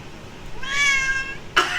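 A cat meows while being held, a single drawn-out close meow followed by a brief sharp cry near the end.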